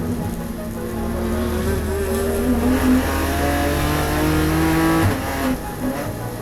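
BMW M4 GT4 race car engines roar together at the race start at Sebring, a steady, loud, layered drone of several cars accelerating and changing pitch, continuous for several seconds.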